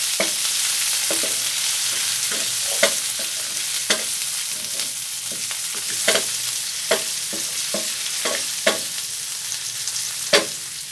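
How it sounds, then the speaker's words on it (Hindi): Chopped tomatoes sizzle steadily on a hot tawa for fried keema, a constant bright frying hiss broken by sharp clinks of a spatula stirring at irregular intervals, close and without talk. "टमाटर को पकते हुए 2 से 3 मिनट हो चुके हैं"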